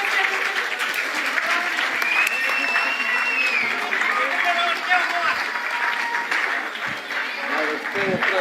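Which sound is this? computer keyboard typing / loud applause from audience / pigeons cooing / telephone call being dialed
loud applause from audience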